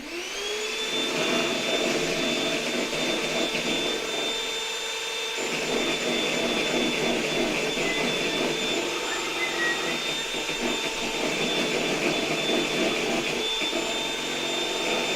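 A steady whirring electric mixer whipping cream drones continuously at moderate volume, running without pause, its pitch shifting slightly as it works.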